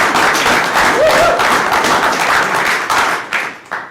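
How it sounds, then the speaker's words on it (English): Audience applause at a union retirees education program, loud and close, a dense round of clapping from a crowd that thins and trails off near the end. "that deserves some applause"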